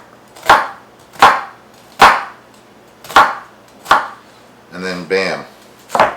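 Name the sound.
dicing an onion with a knife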